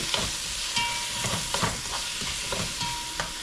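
Beef and onion sautéing in a pan for sinigang na baka, with a steady sizzle and fry broken by soft scrapes and stirring clatter, close and continuous with no talk.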